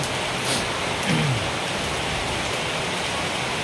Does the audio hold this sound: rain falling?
yes